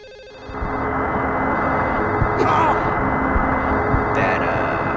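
A telephone rings loudly inside the Silent Hill 4 game, a sustained harsh electronic ringing over a dense droning background, with a couple of brief bursts cutting through.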